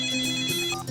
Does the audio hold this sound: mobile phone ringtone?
yes